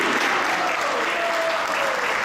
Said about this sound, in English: So big round of applause for Mother Subhuti.